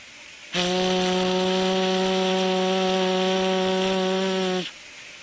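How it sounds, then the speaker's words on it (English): A single long, steady whistle blast from an Indian WP class steam locomotive, loud and tonal with rich harmonics, holding about four seconds before cutting off. "Sounding of a whistle from a steam locomotive."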